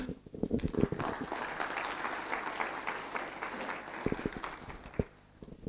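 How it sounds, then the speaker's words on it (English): Conference audience at an international One Health gathering breaks into applause, a few sharp claps swelling into a dense, even round that holds, then thins out with scattered final claps. "Est-ce que nous pouvons encore applaudir?"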